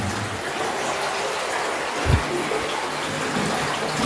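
An underground river flows through the Japanese Passage Cave about 120 meters in, making a steady rushing wash of water with a single low thump near the middle.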